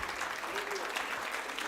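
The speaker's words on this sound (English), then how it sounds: "you can clap for that" Audience applause at a Rotaract club installation ceremony at St. Joseph's College of Commerce, a steady, moderate round of clapping from a crowd with some voices mixed in.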